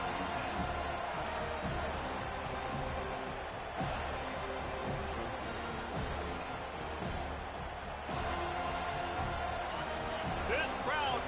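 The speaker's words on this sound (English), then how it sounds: "This crowd trying to show them what it's going to be like all day in this house." A stadium crowd roars at a college football game, a steady dense wash of cheering and noise with sharp bangs, heard beneath a commentator's voice.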